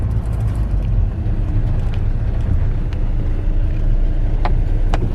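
A car rolls along a dirt track through rural land in Africa, heard from inside as a steady, loud low engine and tyre rumble with occasional small knocks and rattles, and no talking.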